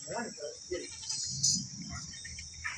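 Rajasthani goats on a goat farm, short bleats rising now and then from a noisy yard with a steady insect-like whine overhead, while someone talks nearby.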